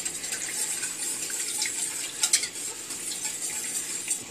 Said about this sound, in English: I like to use a whisk